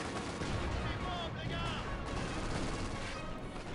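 Sustained gunfire in the World War II strategy game Company of Heroes 2, rattling shots aimed at an enemy half-track amid dense battle noise and explosions, loud and continuous.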